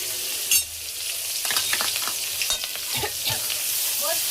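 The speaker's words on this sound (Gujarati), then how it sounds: "ચલો, તો રાઈ તતડી ગઈ છે, જીરું પણ તતડી ગયું છે." Mustard seeds and cumin crackling in hot oil for a tempering, continuous bright sizzle with sharp popping crackles scattered throughout, close and loud, alone without talk.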